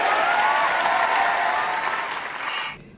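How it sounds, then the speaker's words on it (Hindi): A live stage show audience applauds loudly and steadily, the clapping thinning toward the end before cutting off. "इनके लिए जोरदार तालियां।"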